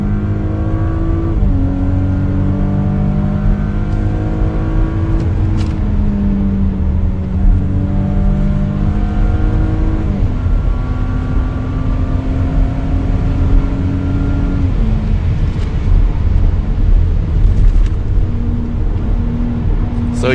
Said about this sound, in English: It accelerates like a Porsche, it drives like a Porsche